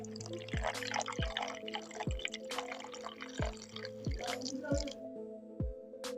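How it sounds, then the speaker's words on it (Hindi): Water poured into a homemade mini air cooler makes a run of regular, evenly spaced drips and splashy trickles, close and fairly soft, over a faint tonal hum. "यहाँ से इसमें थोड़ा सा पानी आप डाल देना।"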